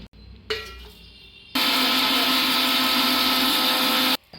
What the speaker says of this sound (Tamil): இந்த ட்ரை மசாலா இன்க்ரீடியன்ட்ஸ் ஆட் பண்ணி கிரைண்ட் பண்ணி வச்சுக்கலாம்